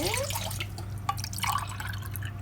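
Glasses of water are poured one after another into a pot for a coconut fondant cake, giving close, light splashing and dripping with a brief clink partway through, no voices.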